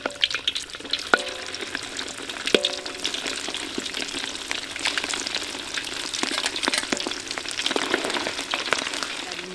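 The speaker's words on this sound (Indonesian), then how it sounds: "Sekarang mau goreng daging sapinya. Kita goreng sampai kering," Beef pieces fry in hot oil until crispy, a steady close crackling sizzle with occasional clicks of a utensil against the pan.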